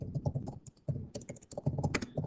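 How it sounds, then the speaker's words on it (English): Quick, close clatter of keys on a computer keyboard during a statistics lecture, uneven bursts of fast typing with short pauses and no talk. "Now, I know I'm typing this"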